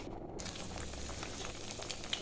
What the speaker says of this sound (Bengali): এখানে একটা ডিম ভেজে নিচ্ছি